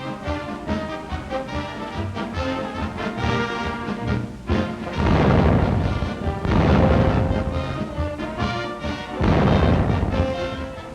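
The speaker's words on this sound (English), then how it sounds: "all types of new guns are demonstrated, with the cadets doing the actual loading and firing" Heavy army guns and artillery pieces, loaded and fired by West Point cadets at a fort range in 1943, boom repeatedly over continuous music, with several loud blasts and rumbling bursts in the second half.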